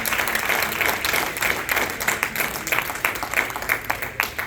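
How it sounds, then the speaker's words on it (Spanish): Loud, energetic applause from a church congregation during a water baptism service, dense clapping with some rhythmic accents and crowd noise, continuing throughout. "Dale un fuerte aplauso al Rey de Reyes."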